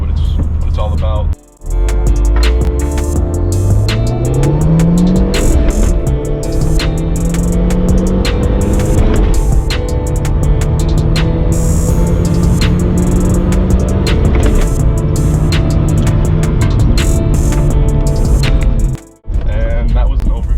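A first-generation Mark 1 Audi TT with a new intake accelerates hard, rising engine tones climbing through gears with brief drops between shifts, loud and close and buzzing with cabin noise throughout.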